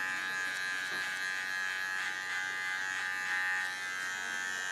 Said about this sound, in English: With the clipper I take the crown area away.